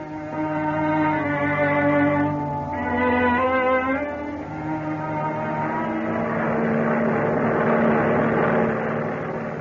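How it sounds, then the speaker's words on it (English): A transport airplane flying at high speed: a steady droning engine hums with a strong low tone, then shifts into a rougher, broader roar, like a propeller plane in flight. "A transport airplane moving through the sky at high speed."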